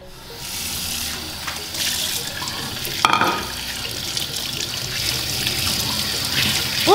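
Carrots washed by hand under a running kitchen tap, a steady close stream of water splashing into a sink with intermittent sloshing and a brief knock near the middle.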